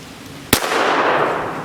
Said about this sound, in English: The key to a good double tap is trigger control, recoil control, follow-up shot,